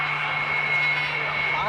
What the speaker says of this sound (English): This is the 2-seat Sukhoi taxiing past.